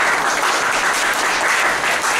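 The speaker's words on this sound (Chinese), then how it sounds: "请大家掌声" An audience applauds at an academic lecture, a dense, loud, even burst of clapping filling the whole stretch without a break.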